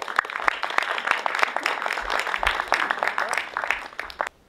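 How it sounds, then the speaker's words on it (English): Audience applause at a documentary panel evening welcoming a speaker to the lectern: steady dense clapping for about four seconds that cuts off abruptly, with a little murmur and low thumps underneath. "So if you can give a round of applause for Megan"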